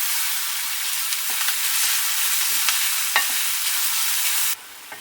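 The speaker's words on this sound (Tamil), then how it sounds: "வெங்காயம் நல்லா ப்ரௌன் கலர் ஆகிற வரைக்கும் வதக்கணும்." Onions sautéing in a hot pan until browned for a Pallipalayam chicken fry, a steady loud close sizzle with occasional stirring scrapes, cutting off abruptly near the end.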